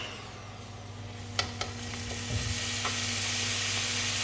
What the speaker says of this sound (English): the pan's nice and hot, so I've got to chuck the beef in and just brown it off